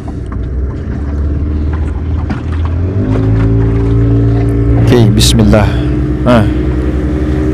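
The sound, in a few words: boat's two engines running again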